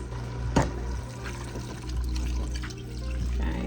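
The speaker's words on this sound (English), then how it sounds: "we're gonna add some water to this." Water poured into a pot of kale, sausage and crushed bean soup, a steady continuous splashing pour with a faint hum underneath, no talking.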